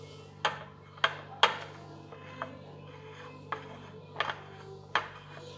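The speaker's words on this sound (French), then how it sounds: "Alors, vous commencez à mélanger tout doucement." Tart pastry mixed with icing sugar by hand in a bowl without a machine, a series of irregular scraping and tapping strokes, about eight distinct knocks spaced apart over a quiet background hum.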